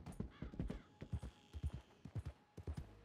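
Horse hooves clip-clop in a steady galloping rhythm in Red Dead Redemption 2, fairly faint and close, with no talking over them.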